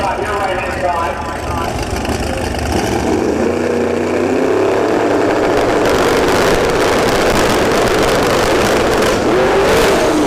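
Drag racing car making a single solo run at Bradenton Motorsports Park, a loud, steady engine roar that builds and rises in pitch with crackling bursts toward the end, with a faint commentator's voice blended in beneath it.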